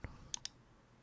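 Two crisp mouse clicks close together, quiet and close-up in a silent room, with a softer click just before them.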